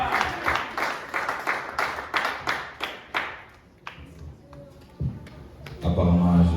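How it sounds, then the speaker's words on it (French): A church congregation applauding during a Sunday service, rhythmic group clapping in an even beat that fades out, then a voice speaks and a louder musical or crowd swell rises at the end. "On est en train d'applaudir Jésus"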